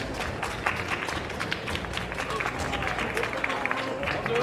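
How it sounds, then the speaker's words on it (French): A crowd applauds performers as they come on stage, steady clapping heard at a moderate distance with a murmur of voices underneath. "veuillez les accueillir sous un tonnerre d'applaudissements, s'il vous plaît."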